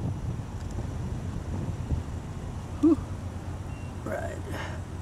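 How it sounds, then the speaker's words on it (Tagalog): Strong wind buffeting a microphone during an outdoor run, a continuous low rumbling roar throughout with a brief tonal blip midway. "Grabe yung hangin."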